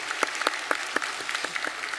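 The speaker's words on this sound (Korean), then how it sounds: "찬양대 위에 다시 한번 격려의 박수 하겠습니다" Church congregation applauding during an Easter Sunday worship service, honoring the choir; a steady, moderately loud round of clapping with distinct sharper claps standing out throughout.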